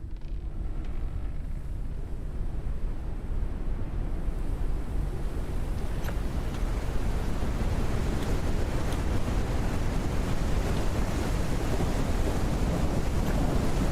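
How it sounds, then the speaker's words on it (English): Storm wind and crashing waves in Forever Skies, a steady, loud roar of gusting wind and surf that swells slightly toward the end, with no voices. "Caution. A storm is coming."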